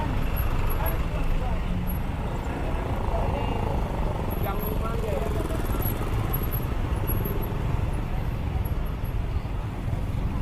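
A Honda Vario scooter rides through town traffic in Pematang Siantar, its steady engine drone and road rumble running continuously beneath a rider talking throughout.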